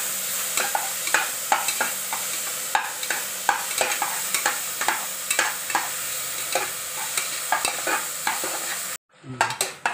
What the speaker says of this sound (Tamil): இப்போ வந்து அதோட நம்ம வெட்டி வச்சுருக்க தக்காளியை சேர்த்து நல்லா வதக்கிக்குவோம்